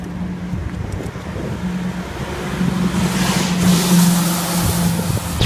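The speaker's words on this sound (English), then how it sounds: "Now oncoming traffic is a thing." Road traffic approaching on Bedford Highway, heard from a pedestrian walking the shoulder with no sidewalk: a steady loud rumble of passing vehicles that swells and nears in the second half, with no talk.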